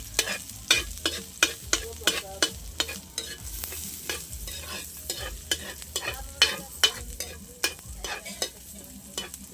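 Onion and garlic frying in a large pan over a strong fire, with a steady sizzle under rapid, rhythmic ladle strokes scraping and knocking the pan close by, no talking.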